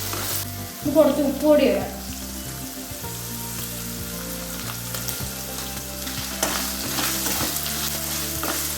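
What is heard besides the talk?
coconut and curry leaves frying and being stirred in pan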